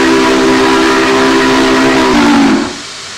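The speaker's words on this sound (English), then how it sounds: "Let's blow the whistle in here." The steam whistle of Union Pacific locomotive 844 in Train Simulator 2020 blows a loud, sustained chord-like tone for nearly three seconds, then cuts off, leaving a lower rumble of the engine behind it.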